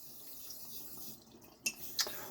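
Water rinsing slurry off a coticule honing stone used for a 1964 Russian vintage razor: a faint, steady trickle with two sharp splashes near the end, heard alone.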